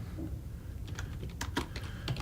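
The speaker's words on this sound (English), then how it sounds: "you figure I'd eventually get good at typing." Typing on a computer keyboard while building a disk report: a quiet run of uneven key clicks, a few sharper taps bunched together, close and alone over a steady low background hum.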